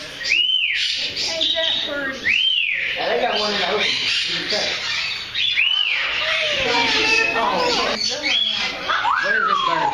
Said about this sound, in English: What is this kind of bird?